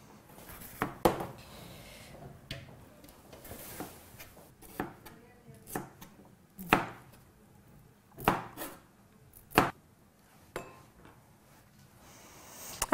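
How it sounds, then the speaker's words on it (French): Knife chopping zucchini, bell pepper and meat into small dice on a board for fried rice, with sharp, irregular chops and occasional clinks standing out against a quiet kitchen. "vous allez découper des lamelles pour faire des petits dés"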